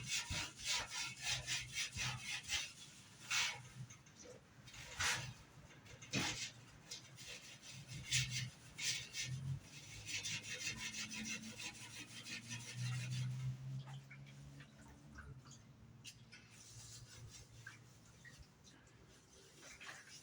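A tank being scrubbed clean with soap, rough rhythmic brushing strokes close by, alternating bursts and quieter stretches with a faint low hum underneath.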